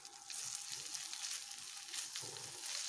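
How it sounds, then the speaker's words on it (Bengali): Okra, spices and chhana fry together in a pan, giving a steady close sizzle with soft crackle and faint stirring bumps throughout, no voices. "মশলা, ছানা সবগুলোকে বেশ ভালোভাবে ভেজে নেব"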